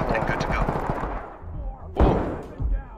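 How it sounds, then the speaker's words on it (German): Gunfire in the tactical shooter Ready or Not: a rapid burst of close shots, then a pause and a loud single report followed by another, over a busy background. "Irgendjemand hat eine Geisel erschossen"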